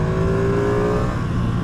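A Ducati Streetfighter V2 motorcycle on its stock exhaust revs steadily and loudly up close, its engine drone holding an even pitch for under two seconds with no voices over it.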